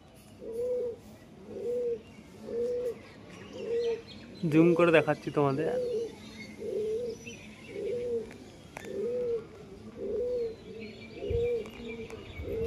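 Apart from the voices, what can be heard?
pigeons cooing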